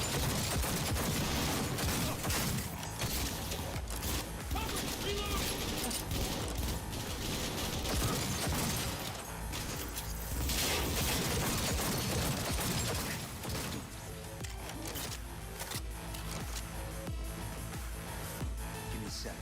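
Sustained video game gunfire during a firefight, dense bursts of shots and mechanical clatter filling the whole stretch, loud and continuous, easing slightly toward the end.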